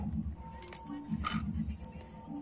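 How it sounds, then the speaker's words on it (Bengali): A metal pot lid clinks and rattles as it is lifted during home cooking, with a couple of sharp metallic clinks near the start amid soft kitchen clatter and a faint background hum. "তাই আমি ঢাকনাটা খুলে দেখে নেব।"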